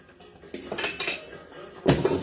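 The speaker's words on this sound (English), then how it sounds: "Let me get the wok" A wok is pulled out and handled in a home kitchen, giving several metallic clanks and scrapes of cookware and utensils, with a louder clatter near the end.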